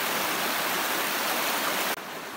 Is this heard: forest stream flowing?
yes